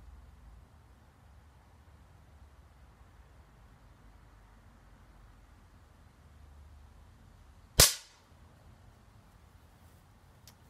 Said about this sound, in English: so you now understand how to shoot this pistol